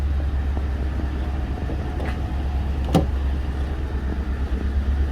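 A 2011 Ford Crown Victoria, an ex-Chesterfield police car, runs with a steady low engine drone close by, with a couple of faint brief clicks over the top and no talk.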